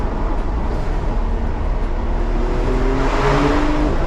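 A Porsche 911 Targa 4 GTS drives along with a steady, loud engine and road roar heard from inside, rising slightly in pitch as it accelerates near the end.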